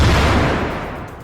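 An airstrike blast destroying a car in Gaza, heard as a loud, close, rumbling explosion that fills the whole clip and slowly decays, with no talking.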